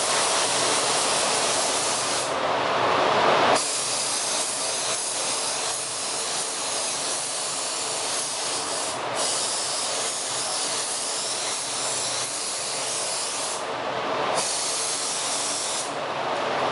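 A paint spray gun hisses steadily while laying ground coat on the edges of a candy-painted Mustang, a loud continuous spray with a few brief pauses between passes.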